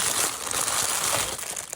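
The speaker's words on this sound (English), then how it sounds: "sorry about the noise, a little crinkle paper at the bottom." Crinkle paper rustles and crumples continuously at close range as it is handled while assembling Valentine's Day favors for preschoolers.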